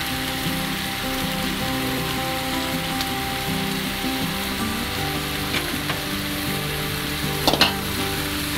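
Beef and potato stir-fry with sesame oil sizzling steadily in a pan while being stirred, a constant close frying hiss with a few brief clinks of the utensil near the end.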